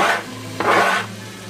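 Garlic and habanero sizzle in a very hot pan, a steady hiss with a brief scraping stir partway through, close and fairly loud.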